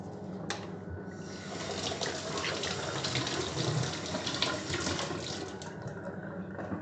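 Baby bottles rinsed under running water in a sink, a steady close gush of tap water with splashing and faint clinks throughout.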